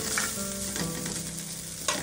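Chicken hits a hot pan for a winter chicken vegetable soup, giving a loud, continuous sizzle with a few clinks of a stirring utensil against the pan.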